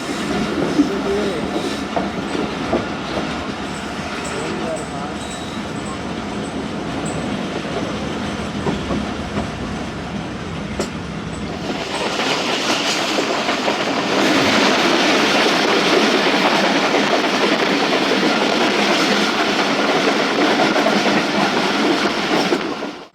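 Rehman Baba 47Up train running at night toward Khanpur station, a continuous rumble with clickety-clack wheel beats and squealing, growing louder and denser about halfway through.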